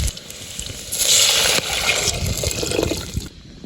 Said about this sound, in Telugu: వాటర్ అయితే వేసేసుకుందాం